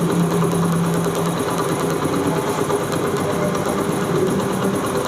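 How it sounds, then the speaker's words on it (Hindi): A Honda CD 70 motorcycle engine fitted with an HHO hydrogen kit runs at high RPM, a loud, continuous buzzing drone with rapid mechanical vibration and a faint lower hum early on. "अब इस बाइक का जो RPM है इस जगह पे बिल्कुल हाई हो चुका है, यहाँ पे हमने इसके जो RPM है वो कम कर देने हैं।"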